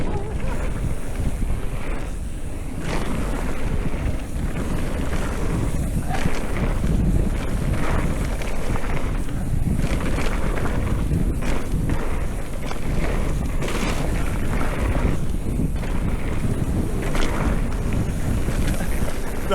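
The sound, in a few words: headwind blowing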